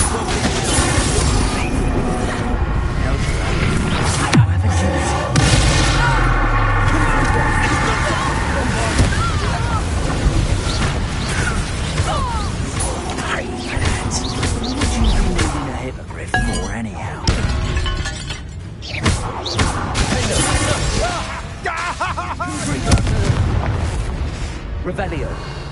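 Confringo blasting spells go off in Hogwarts Legacy, with fiery bursts, clinks and shattering debris among booming hits. Speech runs over the combat for much of the long stretch.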